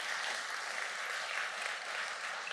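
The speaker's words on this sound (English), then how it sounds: "can I just get a quick round of applause from Matt here?" Conference crowd at TABConf 6 giving a round of applause, a dense, continuous wash of many hands clapping at even loudness throughout, with no pauses.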